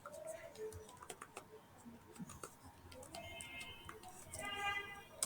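Typing on a computer keyboard during data entry, a quiet close run of irregular key clicks in short bursts, with a person talking softly over it.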